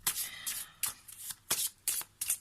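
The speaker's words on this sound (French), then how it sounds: "Je vais prendre une seconde carte du Lenormand ici." A deck of Lenormand cards is shuffled by hand and a card drawn, giving quick papery riffles and soft slaps in short bursts, close and quiet.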